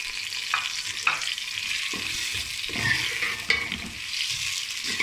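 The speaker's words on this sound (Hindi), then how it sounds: "प्याज को करूँगी ब्राउन," Onions sizzling in hot ghee as they brown, with a spoon stirring and scraping the pan now and then, close and continuous.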